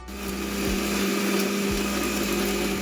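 A mixer grinder whirs loudly as it grinds garlic, cloves and curry leaves for garlic kebab, a steady high motor drone that runs without pause and with no talking.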